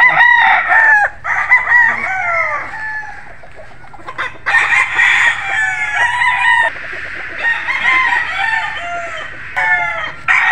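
A golden boy sweater gamecock crowing repeatedly in loud, close bursts, mixed with clucks from other fowl nearby.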